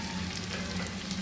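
Mutton pieces fry with spices in a pan for a thin curry, a brief steady sizzle with a low hum beneath it.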